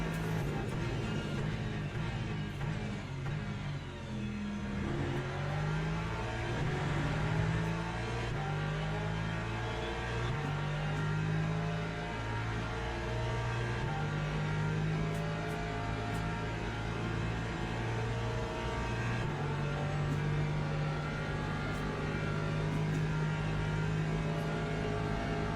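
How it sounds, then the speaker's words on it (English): A Porsche race car's engine drones loud and steady down the straight in the Le Mans Ultimate racing game, its pitch stepping up through gear changes in a continuous sustained roar with no talking. "that Porsche is surprising me of how quick it is on the straight"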